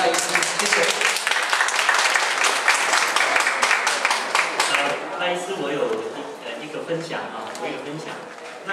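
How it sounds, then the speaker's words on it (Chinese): A seminar audience applauds to thank Dr. Lai with dense, steady clapping for about five seconds, then the applause thins out beneath a speaking voice. "那我们再掌声谢谢我们赖医师"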